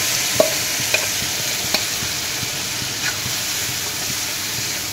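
Ground banana stem paste frying in a pan for a fish curry, giving a steady close sizzle with a few sharp spoon taps and scrapes against the pan.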